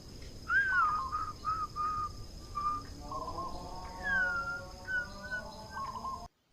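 Whistled imitation of a zebra dove (perkutut) call: a person whistles short repeated coos and trills in a steady series, fairly close and clear, with a second run of lower layered whistles following over a quiet background.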